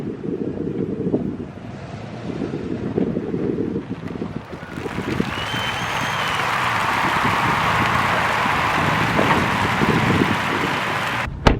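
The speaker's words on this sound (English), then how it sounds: "It is very windy today." Wind buffets a microphone with a constant low roar and rumble, growing harsher and brighter midway, loud and close.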